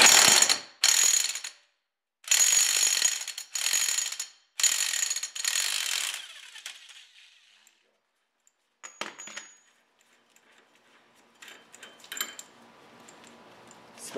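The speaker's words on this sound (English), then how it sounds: "It's my Harbor Freight electric impact wrench." Harbor Freight electric impact wrench taking off the axle nut on a 2006 Jeep Commander, loud close bursts of rapid hammering in several runs of a second or so, then quieter clanks and handling noises.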